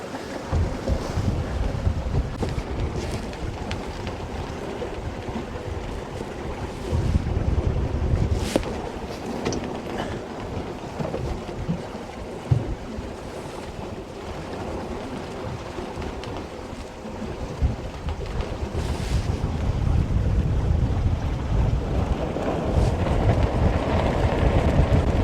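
A sailboat runs before the wind on Wyangala Dam, with loud, continuous gusts buffeting the microphone over the rush and slap of water against the hull.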